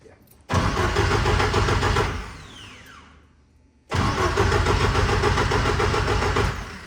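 A car engine with fresh spark plugs cranks and fires, revs steadily, dies down into near quiet, then restarts and runs strong again; close and loud.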